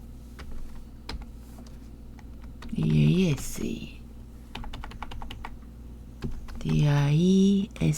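Computer keyboard typing in a Korean word processor, scattered close key clicks and a few louder presses, with brief voiced sounds breaking in twice.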